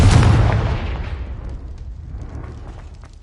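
A Confringo blast spell in Hogwarts Legacy goes off as a loud, deep explosive boom that rumbles and slowly decays over about three seconds, standing alone without talk.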